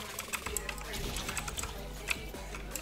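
Keys on a computer keyboard are hammered in quick, busy bursts during a Fortnite game, close and moderately quiet, while people talk over the clatter.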